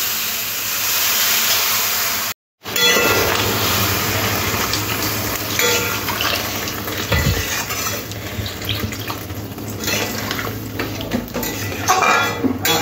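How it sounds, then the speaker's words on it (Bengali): Water poured into spiced papaya and vegetables frying in a pan for fish curry, giving a loud, steady hiss and sizzle with scraping of a utensil against the pan. "এবারে জল দিয়ে দিতে হবে।"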